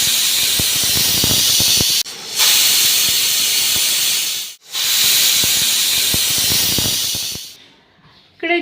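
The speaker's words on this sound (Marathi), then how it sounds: "फुल गॅसवर पहिले आपण 1 शिटी होऊ देऊ आणि नंतर गॅस कमी करून 2 ते 3 शिट्या घेऊन" A pressure cooker cooking khichdi gives off loud, close bursts of hissing steam, two long blasts broken by brief pauses, then a fainter trailing whistle as the release dies away.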